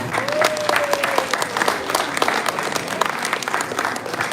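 Audience at a school Founder's Weekend event applauding a correct quiz answer, sustained crowd clapping, loud and close, with a voice briefly sounding over it and the clapping continuing steadily throughout.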